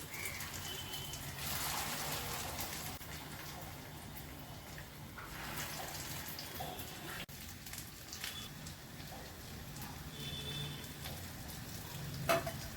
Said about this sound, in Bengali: এই বড়াগুলো আমি এইভাবে ভেজে নেব